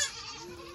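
A baby goat during kidding season gives a short, loud, wavering bleat at close range, tailing off over under a second.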